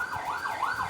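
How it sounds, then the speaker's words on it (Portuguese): An ambulance siren sweeps up and down in a steady wail, loud and close, filling the whole short moment with no voices over it. "tá passando ambulância aí"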